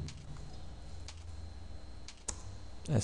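Sparse, soft computer keyboard clicks with a few isolated key taps, including presses of the Enter key, fall over a low background hum, ending in a brief louder knock.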